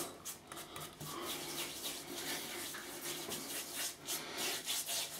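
Hands rub shaving soap lather onto whiskers, a soft, close, wet rubbing and scrubbing that comes in uneven strokes, quiet and heard alone.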